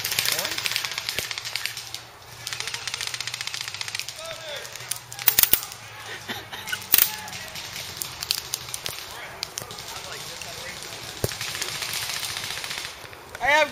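Airsoft pistols fire in scattered bursts of sharp pops during an outdoor skirmish, with a KWA M9, WE 1911 and KJW M9 among them, mixed with shouted voices and rustling movement.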